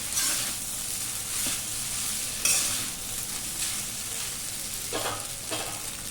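Egg and brown rice get stirred in a pan with a soft, steady sizzle, the spatula scraping and turning in occasional clustered strokes, close and alone.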